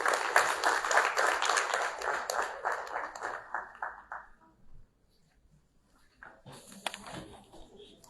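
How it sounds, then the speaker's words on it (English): An audience at a school of public health orientation session applauds, with many hands clapping loudly and steadily for about four seconds, then fading into near silence before faint movement and talk-like sounds return. "Please, round of applause for Ms."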